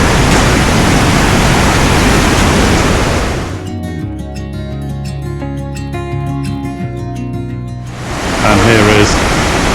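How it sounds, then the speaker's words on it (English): Loud, steady roar of rushing water from a river torrent and waterfall in East Java, giving way to a stretch of music in the middle before the roar returns. "bit of a raging torrent here, as you can hear."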